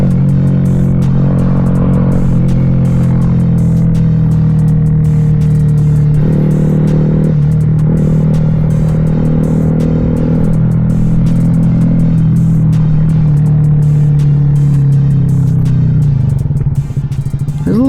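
A Honda Grom SP motorcycle with a stage 1 exhaust idles and revs steadily up close, its engine note rising and falling in several blips over a continuous loud rumble, with no talk.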